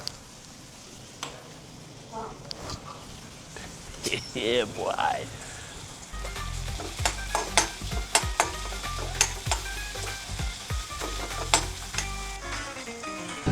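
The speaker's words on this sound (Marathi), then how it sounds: "कांदा पिवळा होईपर्यंत आपण वेट करतोय." Onions frying in a pan for dhaba-style egg bhurji, a soft sizzle with scattered spoon stirs and scrapes that turn brisker and more rhythmic in the second half, with voices talking over the cooking.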